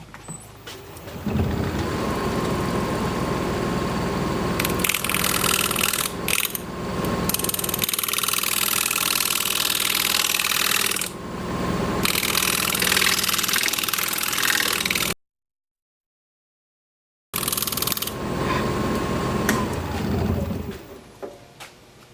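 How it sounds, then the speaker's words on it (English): Steady, loud machine drone from a wood lathe as a cherry plum bowl is shear scraped, running almost continuously, briefly dropping out, then resuming. "this particular maneuver that I'm doing right now, shear scraping, is really difficult"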